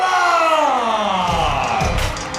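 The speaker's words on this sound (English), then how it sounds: "you can hear this place going absolutely wild at the Paragon Casino" A home crowd roars and cheers wildly at a fight at the Paragon Casino, a loud continuous swell of voices with yells and whoops throughout.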